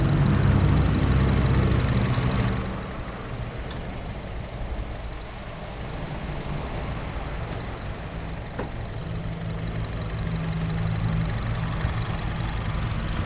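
A used Honda Jazz engine idles steadily, a low rumble that dips slightly after the first few seconds and then holds even, with no voices.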